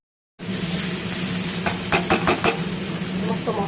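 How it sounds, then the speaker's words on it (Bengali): Turmeric, salt and chilli powder stir-fry in oil for a chicken dish, a steady close sizzle with a low hum beneath and a quick run of spatula scrapes and taps in the middle. "সমস্ত মশলা খুব ভালোভাবে ভাজা ভাজা হয়ে গেছে, তেলও ছেড়ে দিয়েছে"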